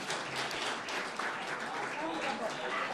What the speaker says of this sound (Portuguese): Uma salva de palmas para Alexandre de Moraes.